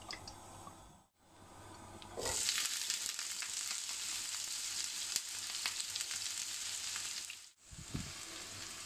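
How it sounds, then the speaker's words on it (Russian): Grated carrot frying in vegetable oil, with a steady loud sizzle that swells after about two seconds and runs on evenly, broken by a short quiet dip near the end. "Обжариваем до полуготовности."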